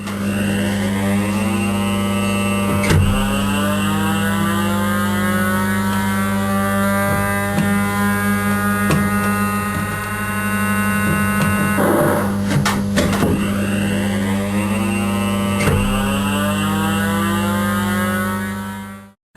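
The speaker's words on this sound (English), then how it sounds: "It's another kind of race car game, so you've got more race car sounds." Electronic engine tones from a 1974 scrolling racing video game, steady buzzing drones with repeated rising and falling pitch sweeps, loud and continuous for nearly twenty seconds with no voices.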